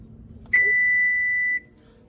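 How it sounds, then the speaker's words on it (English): A kitchen appliance gives a single sustained electronic beep, about a second long and clear against a quiet background, signalling it is ready for the wrap rolls to go in. "What does that sound mean? Beeping and ready to go in."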